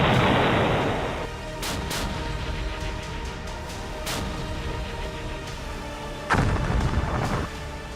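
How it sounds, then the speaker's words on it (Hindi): War footage of explosions and artillery fire: a heavy, loud blast rumbles at the start, then a quieter stretch with scattered sharp reports, and another strong boom rolls in near the end. "उसे यूक्रेन ने बारूदी धमाके से निस्तनाबूद कर दिया"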